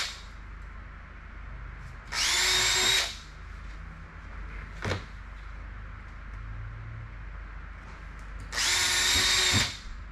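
Two loud bursts of a power drill with a 3.5mm bit whirring into material, each lasting about a second, separated by quieter workshop noise and a brief knock.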